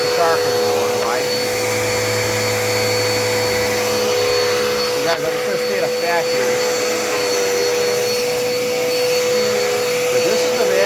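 A Dirt Devil Endura Reach vacuum cleaner runs steadily with a loud, constant whine and roar, used on an area rug, while a person talks over it throughout.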